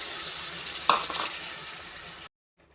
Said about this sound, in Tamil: தக்காளி வந்து நல்லா எண்ணெயில் கொஞ்சம் நேரம் வேகட்டும்